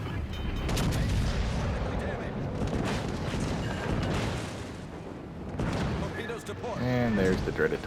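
Torpedoes striking a South Dakota class battleship in World of Warships: Legends, heard as heavy booming impacts and rumbling explosions mixed with game noise, with a voice talking over parts of it.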